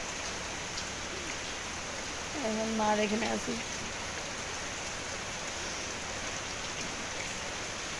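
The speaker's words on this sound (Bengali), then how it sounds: "তো চলো এখন একটু বসে বসে বৃষ্টি দেখি" Steady rain falls outdoors in the Andaman Islands, a broad continuous hiss throughout, with a person speaking briefly in the middle.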